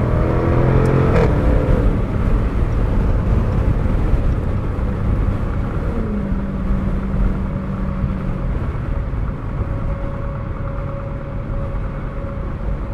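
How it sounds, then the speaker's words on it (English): A 2021 Jaguar F-Type R AWD Convertible or 2022 Lexus LC 500 Convertible engine held at high revs against the limiter, a loud, continuous buzzing drone with rapid choppy pulsing, close and steady throughout. "Bounce off the rev limiter."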